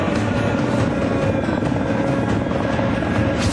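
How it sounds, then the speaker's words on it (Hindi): A helicopter flies during a search operation around the Pathankot airbase after a terrorist attack, its rotor and engine making a loud, continuous, close thrum with no break. "लगातार हेलीकॉप्टर से सर्च ऑपरेशन किया जा रहा है"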